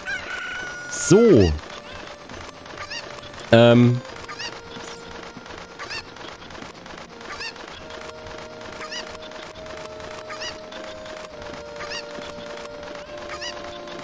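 Video game chickens from a Zelda Ocarina of Time hack crow loudly twice, with faint clucking, over a steady game music and sound-effect bed, while someone says a word.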